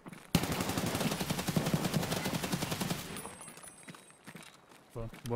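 Rapid bursts of automatic gunfire from an MK 47 Mutant rifle in the video game Escape from Tarkov crackle for several seconds, then trail off into quieter shots and movement, with a voice speaking near the end.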